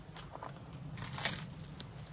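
Close, soft crunching bites into a grilled sourdough mac and cheese sandwich with crawfish at a car campsite, a few irregular crisp crackles over a low background hum.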